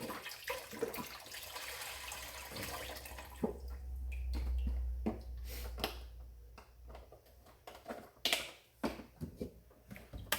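Chicken broth pours into a cooking pot for Mexican chicken soup, a close liquid splash and trickle with gurgling that tapers into scattered drips and clinks.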